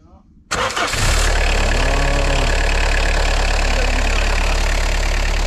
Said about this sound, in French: Tentative de démarrage. Il est froid.